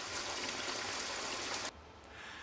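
Water from a garden hose flushing out a car engine block, a loud steady rushing gush that cuts off abruptly partway through, leaving a faint background hiss.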